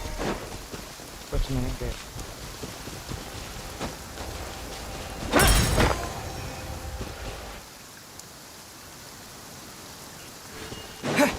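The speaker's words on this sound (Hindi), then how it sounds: "बारिश हो रही है।" Steady rainfall patters across the scene in the video game Genshin Impact, with a loud rumbling thunder burst midway and someone speaking briefly over the storm.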